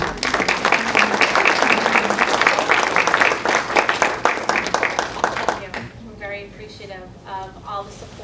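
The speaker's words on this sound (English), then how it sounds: "I think we applaud you" A school-event audience claps in a loud, sustained round for several seconds, then the applause fades and a person starts speaking.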